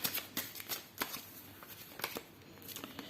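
Oracle cards being shuffled and drawn for a tarot-style reading, giving soft papery flicks and snaps at irregular intervals, close and fairly quiet with no voices.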